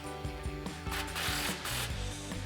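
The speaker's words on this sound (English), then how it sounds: "I'm gonna tighten down this bottom bracket here first with our 13mm socket" Ratchet with a 13mm socket tightening a suspension bracket on an F-150 lift kit install, a close series of rapid clicking strokes in quick rhythmic bursts throughout.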